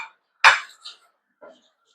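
A spoon clinks against a pot while stirring ham into homemade green bean and potato soup, one sharp metallic knock followed by a couple of softer scrapes and taps, close and quiet.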